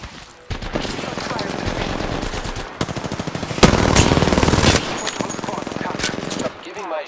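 Rapid automatic gunfire rattles through a battle royale shooter firefight, sustained machine-gun bursts that swell louder midway, with a few brief gaps between volleys.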